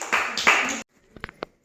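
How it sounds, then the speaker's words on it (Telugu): A group of children in a primary school classroom clap together in a quick burst, then a few scattered single claps follow, close and fairly loud. "క్లాప్స్ జానుకి"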